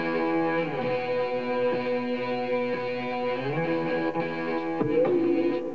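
An electric guitar played through heavy distortion and an octave effect, sustained gritty notes sliding between pitches, loud and unaccompanied.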